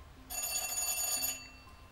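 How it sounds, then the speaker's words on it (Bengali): A telephone bell rings in a rapid, continuous trill for about a second, fairly faint, as a sound effect in a Bengali audio drama; no voices. "হঠাৎ টেলিফোন বেজে উঠল।"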